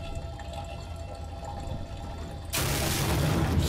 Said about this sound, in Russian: Наливаем, наливаем туда бензин.